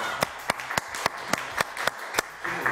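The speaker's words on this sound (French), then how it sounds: "on applaudit très très fort ma poule, mon amie Sandrine" A slow, regular run of single hand claps, evenly spaced and close, rather than a crowd's applause.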